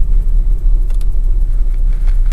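A Citroen XM with a 2.1 12-valve turbo diesel and four-speed automatic gearbox, heard from inside while driving: a steady, loud low rumble of engine and road noise with no speech.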